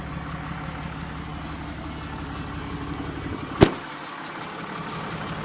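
A 4th gen Ram Cummins 6.7 diesel truck engine runs on high idle with a steady, close, even drone, broken once by a sharp click before it settles back to a lower hum.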